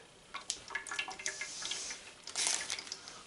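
Marinade drips from pieces of beef being prepared for cowboy jerky, heard as close, irregular wet drips and splashes with a brief louder patter near the end.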